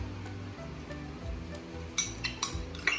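Ingredients for a beer brine with ginger beer are stirred in a bowl, giving soft scraping swirls followed by several sharp clinks of utensil against the bowl, close and alone without talk.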